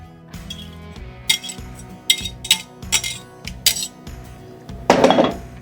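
Cooked hamburger meat dropped back into a metal skillet for a creamy beef and cheese dish, with several sharp clinks and scrapes of a utensil against the pan and a louder burst of sizzle and clatter near the end.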